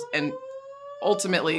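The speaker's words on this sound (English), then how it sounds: "that's just a fire alarm being tested here in the arena" A fire alarm being tested inside a basketball arena gives a steady, slightly rising electronic tone, heard between and under someone talking.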